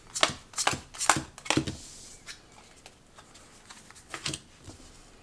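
A deck of cards is riffled and shuffled up close at a tabletop game of Aeons End, giving several quick crisp bursts and then softer scattered flicks.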